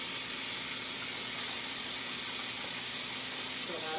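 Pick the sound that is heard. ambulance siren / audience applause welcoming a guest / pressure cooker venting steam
pressure cooker venting steam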